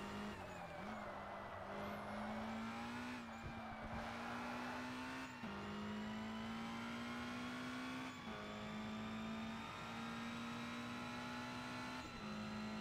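Race car engine in Forza Motorsport, R-GT class championship, droning steadily at high revs for the whole stretch, with brief dips at each gear shift before climbing again, close and constant with no talk.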